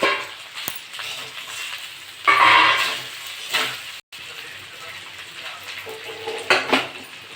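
A spatula stirs fried rice in a pan. Soft sizzling runs under intermittent scrapes and metal clinks, with a louder burst of stirring partway through and a brief drop near the middle, up close and without talk.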